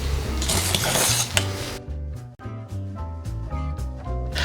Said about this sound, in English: you're gonna add the rest of the dry ingredients bit by bit and keep on whisking